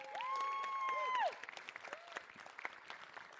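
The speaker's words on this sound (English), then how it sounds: "Please give a big round of applause." Faint applause in a church hall at an evening worship event: a bright sustained musical tone slides down and stops, leaving scattered, quiet claps from the congregation.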